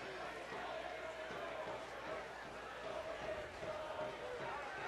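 Soccer stadium crowd at a Sacramento Republic FC versus Phoenix Rising FC match gives a broad, distant roar of approval, steady and fairly quiet, with a commentator talking over it.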